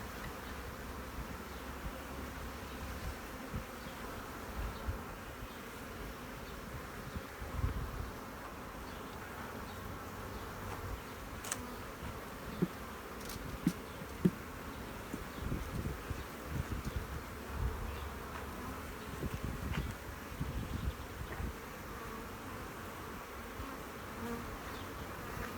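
A constant, low hum of many honeybees buzzing during hive work fills the whole stretch, soft but steady, with occasional faint clicks and rustles.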